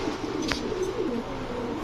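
Racing pigeons coo in a low, steady murmur close by, with a brief sharp flutter or click partway through and no talk over it.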